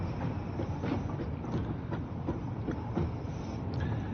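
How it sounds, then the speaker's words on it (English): A train passing in the factory-building game Satisfactory, a continuous rumbling roll with faint rhythmic clicking of wheels, moderately distant and steady throughout. "Oh, I hear a train."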